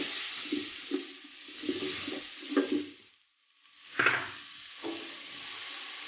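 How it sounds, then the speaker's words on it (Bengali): Ginger-garlic paste sizzling in hot oil in a pan for a dry beef curry, a bright hissing fry broken by scraping stirs and brief clinks, with one short pause before the sizzle flares up again. "আমার তেলগুলো গরম হয়ে গেছে এখন আমি এর মধ্যে দিয়ে দেব আদা ও রসুনের পেস্ট"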